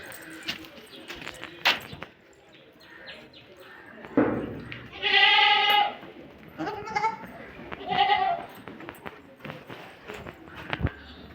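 A goat bleats in a home garden in a couple of drawn-out, wavering calls, fairly close, with rustling, footsteps and light knocks around it.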